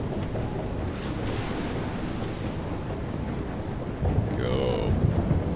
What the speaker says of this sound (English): Yeah, we have a storm happening here.